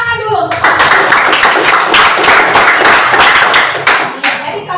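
Dense classroom clapping from a group of students breaks out loud and close, sustained for several seconds with voices mixed in.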